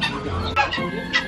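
Plump chickens cluck in short, bursty calls at an outdoor pet and animal market in Belgium on a freezing day, mixed into a dense, busy background murmur.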